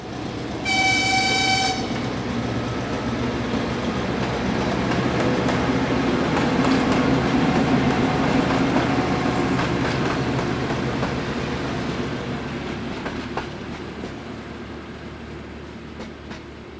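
A train horn sounds briefly, then a heavy diesel locomotive, M61017, rumbles and grinds steadily as it pulls away hauling a test coach at Budapest, the noise gradually fading.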